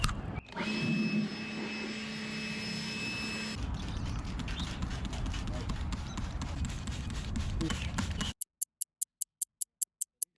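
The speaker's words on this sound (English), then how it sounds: "with help of our blower here, we're gonna dry it all off" An air blower dries a Volkswagen Beetle chassis after rust-prep etching, a loud steady rushing hiss that runs for several seconds and then cuts off, followed by a series of sharp regular ticks.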